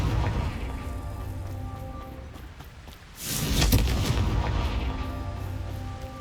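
A Confringo fire spell explodes in the Hogwarts Legacy video game, a loud booming burst about halfway through that rumbles on over a steady game backdrop.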